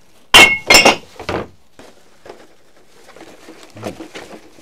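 Glass bottles dropped into a campsite recycling bin on a Staffordshire farm, two loud clattering crashes in quick succession followed by a smaller clink and faint settling rattles.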